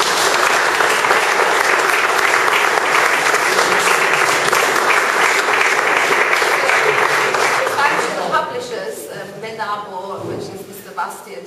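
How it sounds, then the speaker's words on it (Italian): A large audience claps loudly and steadily for several seconds, then the applause thins out and fades as a few voices come through near the end. "e vorrei che gli venga fatto un applauso."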